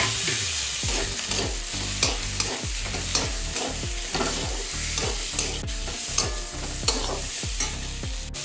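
Fried pointed gourd pieces being stirred into spices in a pan, with a steady sizzle and a regular, repeated rhythm of spoon scrapes throughout, close and fairly loud.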